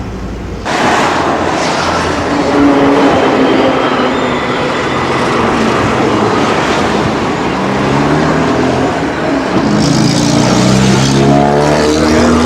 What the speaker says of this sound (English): It's Ukraine train station.